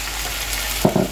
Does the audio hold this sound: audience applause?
no